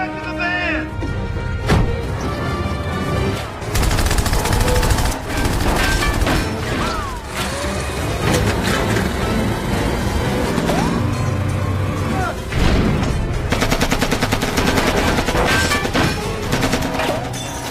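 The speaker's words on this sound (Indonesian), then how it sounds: "Hingga pada akhirnya terjadilah tembak-tembakan disertai kejar-kejaran." In a film action scene, bursts of rapid gunfire and heavy crashes punctuate a car chase, with loud repeated shots in clusters over a rumbling engine and impact noises.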